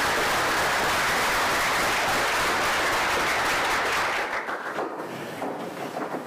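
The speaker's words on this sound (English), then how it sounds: "I'm gonna pause for applause here." An audience at a technical talk on translating C code to Rust applauds, a loud dense burst of clapping that thins and fades toward the end.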